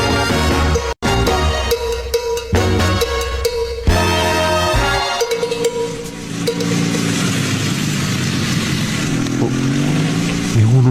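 A motorcycle engine revs loudly in a radio drama sound effect, with several sharp throttle bursts followed by a sustained, wavering engine drone that fades slightly toward the end, heard alone without talk.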